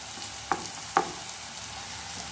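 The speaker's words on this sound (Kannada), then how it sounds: "ಚೆನ್ನಾಗಿ ಫ್ರೈ ಮಾಡ್ಕೊಳ್ಳಿ" Chopped ingredients frying in a pan for egg fry, with ginger and garlic, give a steady soft sizzle broken by two brief scraping stirs early on.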